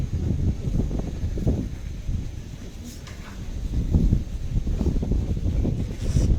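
Outdoor wind at an ashram gusts against the microphone in rough, rumbling bursts that rise and fall over several seconds, with quieter gaps between the stronger gusts.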